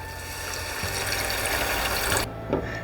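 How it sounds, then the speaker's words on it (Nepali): Water pours steadily into sizzling ground masala in a pan for butter paneer masala for a couple of seconds, then stops abruptly, leaving a brief quieter moment with a small clink. "अहिले मसला पिसेकोमै मैले पानी राखेको छु यो राखिदिउँ"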